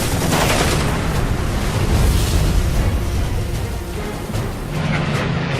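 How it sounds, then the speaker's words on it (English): A WWII fighter plane strafes an airfield with machine gun fire, heard as a loud, continuous dense roar of rapid gunfire and engine noise with no pauses. "Jim Howard strafes the area, breaking the airfield with machine gun fire."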